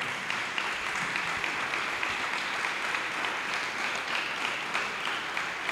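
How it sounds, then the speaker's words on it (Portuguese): An audience claps to close a panel session at a science, technology and innovation conference. The applause is dense and steady and carries on without a break for several seconds. "Creo que se merecen un aplauso final."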